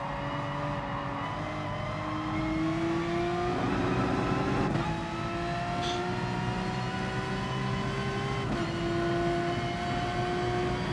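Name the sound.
Porsche car engine driving, from video game Gran Turismo Sport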